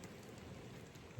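Steady rain patters on a backpacking campsite in Rocky Mountain National Park, a soft continuous hiss of drops on tent fabric, faint and even.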